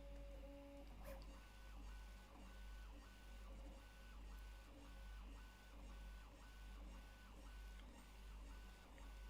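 A Prusa MK4 3D printer runs mid-print, a bed-slinger with fast moves. It gives a loud, continuous low motor drone with repeating rhythmic stepper whines and tonal chirps, close and steady throughout, with no talking.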